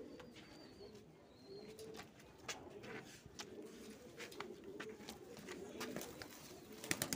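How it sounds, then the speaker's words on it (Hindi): Golden high-flyer pigeons for sale in Punjab coo softly in a low rumbling chorus, with scattered wing flutters and clicks in a quiet outdoor setting. "ये लो भाई साहब गोल्डन कबूतर हैं पूरे के पूरे"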